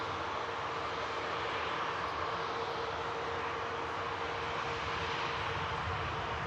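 A two-year-old passenger jet taxis past at Manchester Airport after a long flight, its engines giving a steady, broad roar with a faint whine that holds level throughout, with no talk over it.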